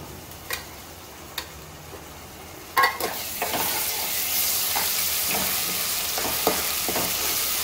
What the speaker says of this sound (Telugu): ఈ అల్లం వెల్లుల్లి పేస్ట్ కూడా కొంచెం అటు ఇటు తిప్పుకుంటే వేగిద్దండి